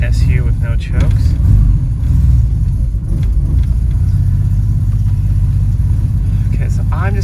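A Jaguar XK150's engine, with SU carburettors and running without choke, idles unevenly with a steady low rumble and slight irregular stumbles, close by, with brief speech-like sounds over it.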